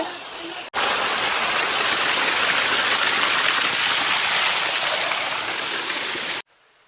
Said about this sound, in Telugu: చూడండి ఎలా ఉందో పైనుంచి వాటర్ అయితే వస్తుంది